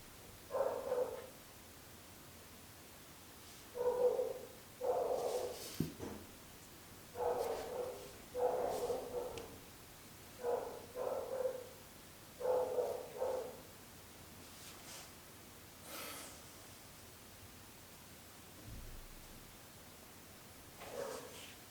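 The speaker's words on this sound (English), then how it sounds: "now we've got fucking dogs barking in the background" Dogs bark in the background in a series of muffled, distant barks in short clusters, fairly regular through the first two-thirds and then thinning out, over a quiet room hiss.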